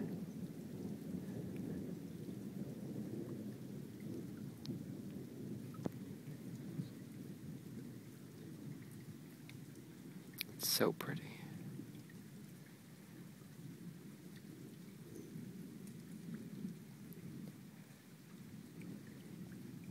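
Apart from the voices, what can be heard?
thunderstorm with thunder and rain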